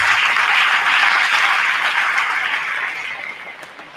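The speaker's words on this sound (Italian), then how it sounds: "E allora un grande applauso anche per il mio papà." Loud, close audience applause at a cycling awards ceremony in Friuli Venezia Giulia, a thick burst of clapping that holds steady and then fades over the last second.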